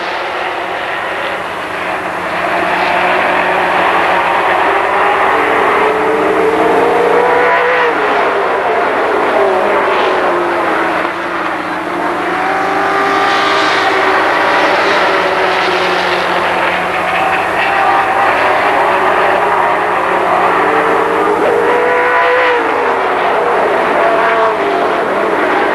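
Race cars roar around Kil Kare Speedway at a 1996 Labor Day championship, a loud continuous engine drone with repeated rising and falling sweeps as cars pass close by.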